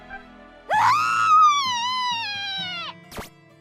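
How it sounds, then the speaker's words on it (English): A woman's single long, high-pitched screech wails for about two seconds and falls away at the end, followed by a brief sharp noise. Nobody speaks. "She let out a screech like some kind of animal in pain"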